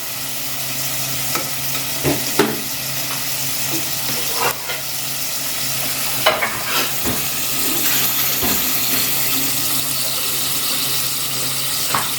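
Mutton sizzles steadily in hot oil, with occasional scraping stirs, and the sizzle keeps a constant hiss throughout.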